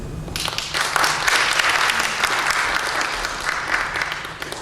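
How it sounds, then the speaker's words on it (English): A memorial gathering's audience claps for Casey in a full, steady round of applause that fills the room for several seconds after a brief quiet start, with no talk over it. "give a little round of applause to Casey"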